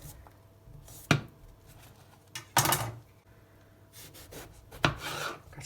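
A knife chops through an aubergine on a wooden board, with three distinct sharp cuts spaced a second or two apart, each followed by a brief rasping scrape, close and clear over quiet background.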